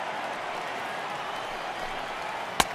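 A crowd in a baseball video game, Philadelphia Phillies vs Atlanta Braves, applauds in a steady, moderate wash with a sharp click near the end. Faint commentary talk runs underneath.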